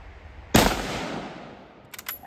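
A single sharp, loud rifle shot from a Hungarian-made Mannlicher rifle fired at a steel target, followed by a decaying echo and a faint metallic ring about a second and a half later.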